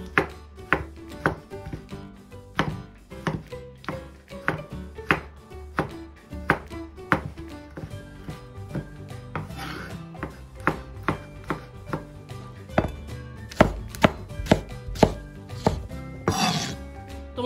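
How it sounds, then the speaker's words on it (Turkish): A knife dices peeled tomatoes into small cubes on a board, with steady, crisp chopping strokes repeating close by and no talking. "Ardından soyduğumuz domatesimizi ince ince küp küp doğruyoruz."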